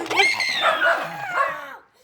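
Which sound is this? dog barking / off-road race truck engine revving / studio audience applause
dog barking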